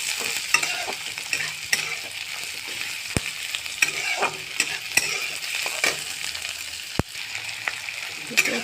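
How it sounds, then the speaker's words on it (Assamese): Onions frying in oil for an Assamese chicken curry, stirred with a spoon: a steady close sizzle broken by sharp scraping clicks and knocks against the pan at irregular intervals, no voices. "পিঁয়াজখিনি ভাজি ল'ম"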